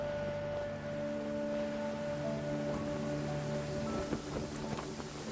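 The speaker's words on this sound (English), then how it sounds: "Rain!" Steady rainfall with soft distant thunder inside the video game Genshin Impact, a continuous wash of patter under sustained musical tones, with a few sharper rumbles toward the end and no talking.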